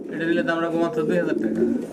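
Pigeons coo nearby in soft, throaty, repeated warbles, fairly loud and close, with little else around.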